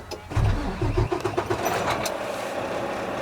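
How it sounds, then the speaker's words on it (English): Engine of a Class A truck cranking and catching in a burst of loud starter churn, then settling into a steady close rumbling idle. "Then I'm going to turn key to the on position. Watch my gauges reset. Start the vehicle."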